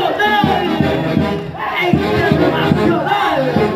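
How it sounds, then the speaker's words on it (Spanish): Audience at an anniversary celebration broke into loud, sustained crowd noise with cheering voices, rising and falling in waves over a few seconds, close and full. "¡Venga esos aplausos de todo el público en general!"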